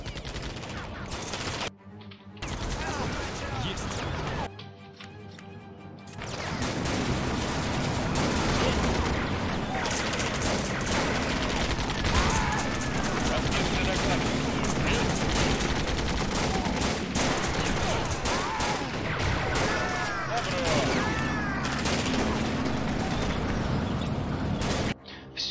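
Machine gun fire in the Blitzkrieg strategy game during a WWII assault on the Mannerheim Line, a continuous dense barrage of gunfire and mechanical clatter running nearly the whole time, with brief drops near the start.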